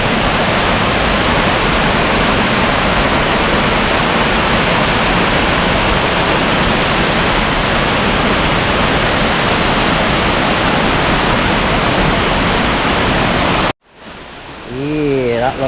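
A hidden waterfall in the Bali jungle roars as a loud, dense, unbroken wash of falling water, cutting off abruptly near the end.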